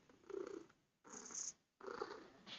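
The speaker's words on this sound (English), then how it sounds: "He's sitting purring" Spike the cat purring up close, three rhythmic rumbling breath cycles with short quiet gaps between them, soft and intimate with no talking.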